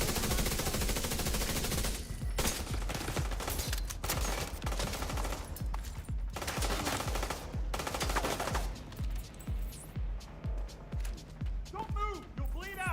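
An enemy turret in The Division 2 fires sustained automatic bursts of rapid, loud shots nearly nonstop, thinning out toward the end.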